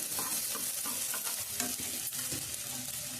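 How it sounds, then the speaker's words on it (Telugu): Masala fries in a pan for a brinjal, dried fish and egg curry, giving a steady, close sizzle under continuous scraping and stirring, with no talk. "మనం మసాలా కొద్దిగా ఏగనిద్దాం"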